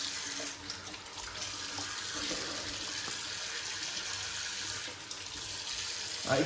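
Tap water running steadily into a sink during a straight-razor wet shave as the face is rinsed, a soft continuous splashing rush with small shifts in flow, heard close and alone.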